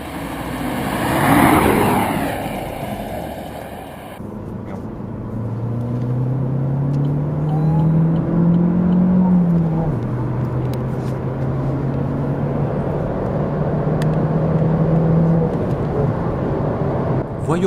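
A 2015 Opel Astra K 1.4-litre turbo, 150 hp, in sport mode revs up and accelerates, its tone climbing and holding steady, loud and close, with a brief noisy burst at the start.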